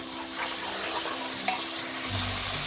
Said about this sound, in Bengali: এবার মশলাটাকে আমি খুব ভালো করে কষিয়ে নেব।